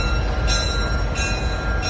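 Close rumble of a train rolling along rails at the National Railroad Museum in Green Bay, Wisconsin, with a couple of brief high metallic squeals from the wheels.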